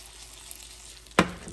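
Chicken frying in butter in a pan for nachos gives a soft, steady sizzling hiss, then a sudden louder crackling burst near the end.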